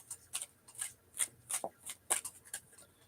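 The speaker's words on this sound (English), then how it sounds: "I'm going to give this a few shuffles." A deck of tarot cards is shuffled by hand in a quick series of about ten crisp, evenly spaced riffling bursts, close and alone with no talking.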